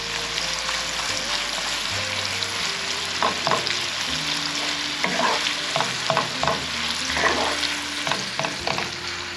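Sausage for biscuits and sausage gravy frying steadily in a pan, with a continuous sizzle broken by repeated scraping and stirring clatters as the meat is broken up, close and fairly loud throughout.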